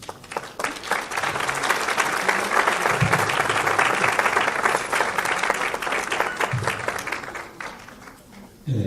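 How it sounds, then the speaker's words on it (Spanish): Sustained audience applause for an honoree at a formal Spanish-language ceremony, dense and steady for several seconds before tapering off near the end. "Les pido un cordial aplauso."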